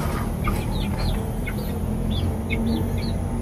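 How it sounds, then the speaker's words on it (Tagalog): Several chickens cluck and chirp in short, repeated calls over a steady rural background hum, fairly close but not loud. "Marami kayong manok dito?"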